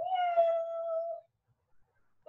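A person imitates a cat with a single drawn-out, nasal meow, close and clear, followed by silence.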